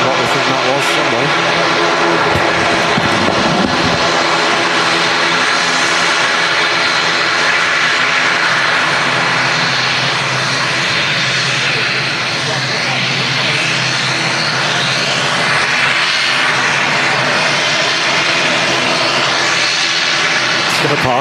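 An Aer Lingus passenger jet at Manchester Airport produces a loud, steady engine roar that continues throughout, with a person talking over it.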